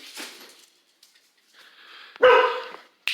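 A dog gives a few sharp, close barks and yips in short bursts separated by quiet gaps, with one loud bark standing out near the end.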